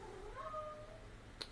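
A house cat lets out one drawn-out, complaining meow that rises and then trails off, heard fairly close in a quiet room, followed by a brief faint click.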